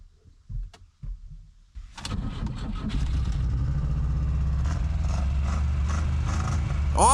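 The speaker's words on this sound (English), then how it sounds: "Let's try starting Buzz Lightyear's car." A Buzz Lightyear Toy Story ride-on car tries to start: a few brief clicks, then at about two seconds a motor kicks in and settles into a steady, loud hum that runs to the end.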